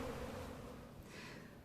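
Steady, dense buzzing of many honeybees, close and continuous, with no voices.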